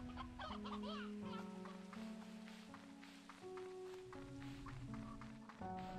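Chickens cluck repeatedly in the Slime Rancher video game, their short, choppy calls coming in quick bursts over sustained tonal game music and ambient sounds, fairly near and clear.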